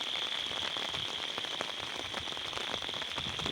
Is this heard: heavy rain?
yes